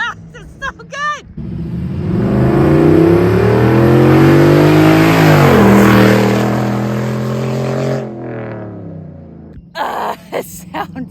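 Brief voices, then a deep 600 hp Hemi V8 in a Jeep Wrangler revs hard and roars by with climbing and dropping pitch, fading out before excited voices return.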